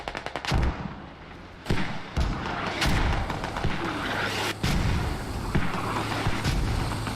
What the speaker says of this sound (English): You also got SC trying mortars.